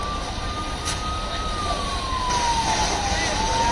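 A fire brigade siren wails at the scene of a major fire near Bharat Mata Chowk in Raipur. One clear, sustained tone rises and falls slowly above a steady background roar.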